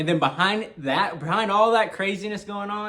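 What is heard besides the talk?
No everyday noises stand out.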